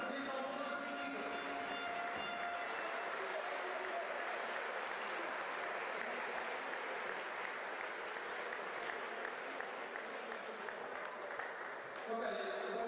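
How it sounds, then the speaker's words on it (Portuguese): Steady applause for five youth basketball athletes at an under-18 final, a dense, continuous wash of many hands clapping at a distance, fairly faint, holding evenly for about twelve seconds before easing slightly at the end. "mais uma vez uma salva de palmas para estes 5 atletas"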